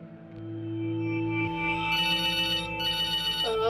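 A phone ringtone in a video game, a bright electronic melody that rings alone and fairly close for a few seconds.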